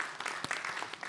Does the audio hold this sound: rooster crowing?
no